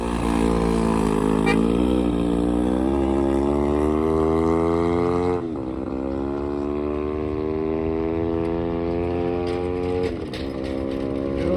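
Yamaha R3 sport bike engine at the Bonneville salt flats, started without a starter and revving with a rising, wavering pitch, then settling to a steady drone that dips briefly and picks up again, close and loud.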